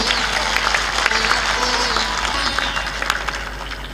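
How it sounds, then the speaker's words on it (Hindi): An audience at a Hindi sermon applauds, a dense, steady wash of clapping that holds for several seconds at fairly close range, thinning slightly toward the end. "जोर से ताली बजाओ।"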